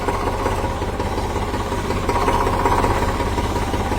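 A dual clutch tractor engine runs steadily nearby, a low throbbing mechanical rumble with a fast regular knock and vibration, unbroken and fairly loud throughout.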